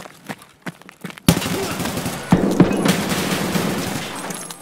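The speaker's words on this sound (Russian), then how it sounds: "Почему МК стреляет по мне через стену?" A rifle fires in Escape from Tarkov: a few separate shots at first, then a sustained burst of rapid automatic gunfire, loud and echoing, with no talk over it.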